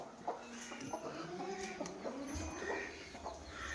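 Desi hen clucking in a home courtyard, with soft, repeated clucks scattered across a busy, noisy outdoor background at moderate distance.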